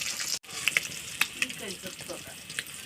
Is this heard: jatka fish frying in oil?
yes